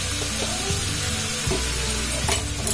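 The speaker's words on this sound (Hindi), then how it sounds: "पोटल और आलू अच्छे से फ्राई हो गया।" Pointed gourd and potatoes fry in a pan with a steady close sizzle, broken by a few stirring scrapes against the pan, no voices.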